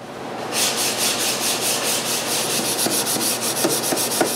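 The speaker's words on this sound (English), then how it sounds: "While waiting for the glue to dry, I sand a little bit the sharp corner of the base." Hand sanding the sharp corner of a walnut clock base, a close rhythmic rasp of paper rubbing wood in quick, even back-and-forth strokes, with a few light knocks near the end.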